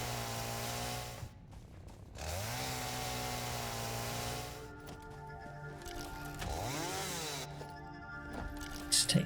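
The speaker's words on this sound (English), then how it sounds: "the chainsaw is slightly, mildly annoying to listen to" Chainsaw in the factory-building video game Satisfactory, a loud sustained motor drone that dips and revs back up several times while cutting, with a short break between runs.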